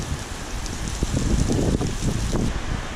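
Steady, dense rain pouring down in severe weather over a field, a constant broad hiss with faint gusty rumble underneath.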